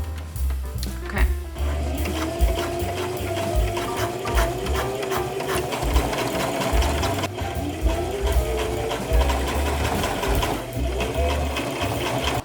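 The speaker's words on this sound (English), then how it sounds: "I'm just going to sew straight and it's just that easy." A sewing machine runs a straight stitch in a continuous close mechanical whir with rapid needle clatter, holding a steady pace throughout.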